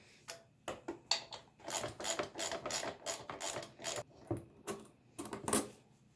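A ratchet wrench works the 10mm gas tank bolts on a Honda XR100 dirt bike, giving quiet bursts of rapid clicking with short pauses between them and a few metallic clinks, close by and without talk.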